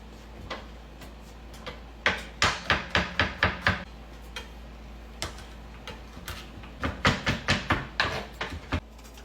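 Meat on the bone is chopped with an ordinary kitchen knife on a board, heard as sharp, hollow thwacks in two rapid runs of about six to eight strikes each, with a few scattered blows between, close and clear with no talking.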